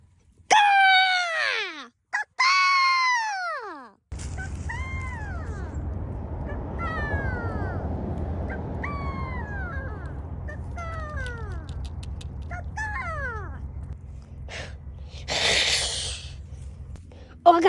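A person imitates a bird scream with a series of shrill, squealing vocal cries, some loud and some fainter, broken by pauses over a low background hum.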